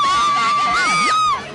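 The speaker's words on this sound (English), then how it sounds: "He's got a little gaggle in the front row, scream every time he drops in." A crowd of young fans in the front row at a skateboarding demo lets out a loud, sustained high-pitched scream lasting over a second, close and then trailing off.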